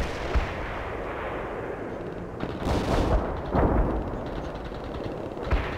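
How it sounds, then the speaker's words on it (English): Artillery barrage in the World in Conflict video game: a constant roiling rumble of shellfire with several louder booms bursting through late on, with no talk over it. "Heavy barrage commencing."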